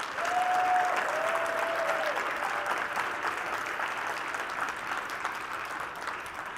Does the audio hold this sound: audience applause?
yes